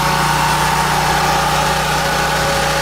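A generator engine, previously flooded in a hurricane, runs at a steady idle with a constant mid-pitched drone and a low hum, close and fairly loud throughout.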